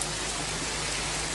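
Torrential rain pours down in a dense, steady hiss, close and loud, unbroken for its short span with no voices.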